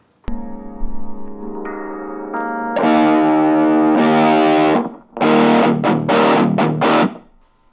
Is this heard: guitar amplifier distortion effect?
yes